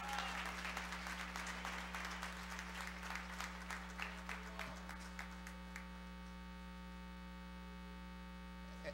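A church congregation applauds during an usher anniversary service: a crowd's clapping rolls on for several seconds, then thins out and fades, leaving a steady low electrical hum from the sound system underneath.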